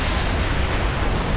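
A loud, sustained explosion roars in the video game Saints Row IV, dense and rumbling across the whole short clip with no voices over it.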